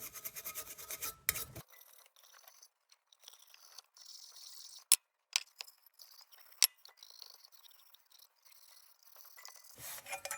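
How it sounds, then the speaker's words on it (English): Steel wool scrubbing a vintage brass burner, with soft intermittent rasping and rubbing strokes and a few sharp clicks, faint and close, preceded and followed by brief louder handling noise. "I'm going to start with steel wool here."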